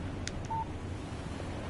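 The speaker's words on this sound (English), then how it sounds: "Text message from Barry." Short electronic phone text-message alert in the game Alan Wake Remastered, a brief beep and a clear tone sounding once over a faint windy ambient background.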